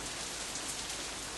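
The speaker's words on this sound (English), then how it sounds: "I feel the first drop of rain land on my back of my hand." Rain falling outdoors, a steady, dense hiss of drops with no pauses, even in loudness and without voices.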